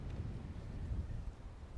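Strong wind rushes across an open golf course on the par-5 18th hole at Anthem Country Club, a steady low rumble and buffeting close to the microphone, with no one speaking.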